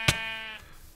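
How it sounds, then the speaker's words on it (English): A single short sheep bleat from the video game Magic Farm 3, loud and close, with a sharp onset and a tonal tail that fades within half a second, no talk. "I'm getting pushed by a sheep now."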